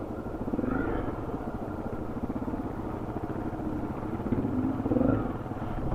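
Honda CRF250L Rally motorcycle climbing a steep, muddy clay track, its single-cylinder engine chugging at low revs with a rough pulsing throb that swells and eases as the rider works the throttle and clutch.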